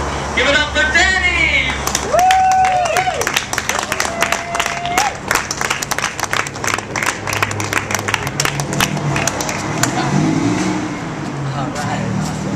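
Crowd applauds a first-time performer, with rapid clapping and whoops or whistles rising at the start and then a sustained burst of clapping under lively crowd noise.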